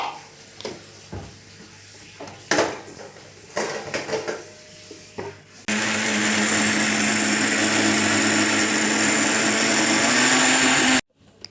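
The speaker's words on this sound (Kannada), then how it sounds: "ಅದನ್ನೆಲ್ಲ ಹಾಕಿ ಈಗ ಮಿಕ್ಸಿ ಹಾಕಬೇಕು" Clanks and taps of a jar being loaded come first, then a mixer grinder roars on at full speed, grinding North Karnataka-style red chutney ingredients in a loud steady whir before cutting off abruptly.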